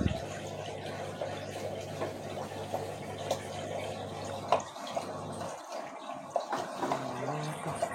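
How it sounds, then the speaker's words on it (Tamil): A water pump motor hums steadily while filling a large fish tank, with running water splashing and trickling; the hum cuts out midway, leaving gurgling and drips. "ஆன் பண்ணிடலாம் மோட்டர்."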